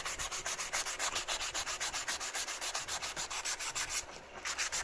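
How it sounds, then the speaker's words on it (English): Steady rhythmic sanding strokes against the chamfered edges of a handmade speaker cable boot, close and continuous with an even back-and-forth cadence and one brief pause near the end, no talking. "We just need to give it a sand up. Just sand around the edges to make it nice and smooth and clean it all up."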